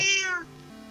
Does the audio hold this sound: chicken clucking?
no